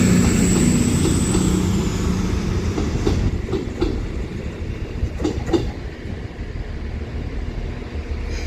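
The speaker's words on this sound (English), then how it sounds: "Now departing is going to be the delayed 1317 cross-country service to Stockport." A CrossCountry passenger train departs Leamington Spa station, a loud, steady rumble of engine and rolling wheels filling the platform, with rhythmic clickety-clack and faint squeal building as it pulls away.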